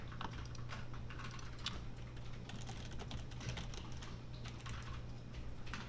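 Steady light typing on a computer keyboard while coding JavaScript, soft continuous key clicks under a constant low electrical hum, fairly faint and with no talking.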